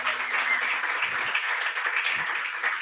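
Steady applause from an audience after a live musical performance, a dense, continuous wash of clapping held at an even level for the whole stretch.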